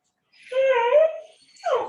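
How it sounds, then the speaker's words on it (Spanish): A pet dog lets out a drawn-out, close whimper followed by a shorter whine, loud and clear against silence. "Mi perra está muy charleta hoy."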